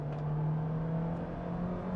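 A stock Honda Civic Type R EP3 engine drones steadily from the front of the car, a loud, sustained mechanical hum with little exhaust note, heard alone.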